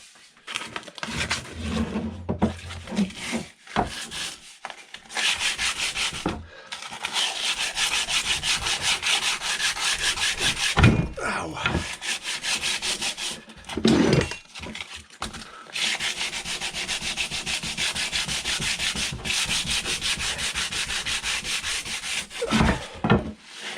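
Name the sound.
sanding wood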